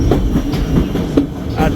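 White Pass scenic train rolling along mountain rails, a steady close rumble with rhythmic clickety-clack from the wheels and faint metallic ringing throughout.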